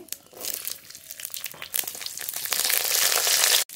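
Radhuni spice and chopped garlic fry in hot mustard oil, giving a crackling, spattering sizzle that starts uneven and builds into a denser, louder hiss before cutting off abruptly.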